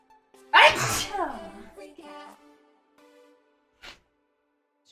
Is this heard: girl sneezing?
yes